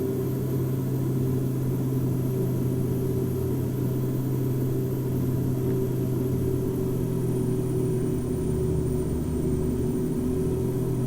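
Beechcraft B1900D turboprop engines in X-Plane 10 hold a loud, steady droning roar with a constant whine during takeoff from Vienna, unbroken for the whole stretch.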